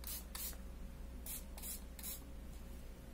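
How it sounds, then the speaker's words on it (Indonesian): A liquid is sprayed onto a clean cotton pad in about five short, close hissing bursts, spaced irregularly and heard alone over a low steady background hum. "aku coba ya semprotin."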